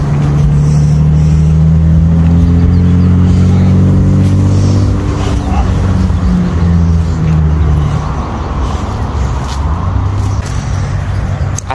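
An old Chevrolet Blazer's engine runs loud and close in a low, steady rumble with a slight rise in pitch partway through, continuing for the whole stretch without talk.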